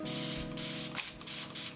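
Spray bottle misting a hair lock during a loc comb-out, a steady hissing burst with a brief gap near the middle, then more short sprays, close and clear with no talking.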